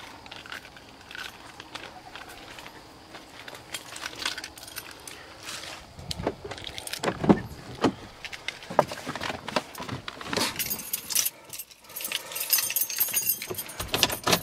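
Keys jangle and clink in bursts after a day of lake fishing in Minnesota, close and fairly loud, with irregular metallic rattles and a few thumps and handling noises.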